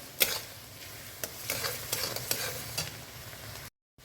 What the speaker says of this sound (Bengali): পেঁয়াজটা দেখো ভাজা হয়ে এসছে অনেকটা রং ধরে এসছে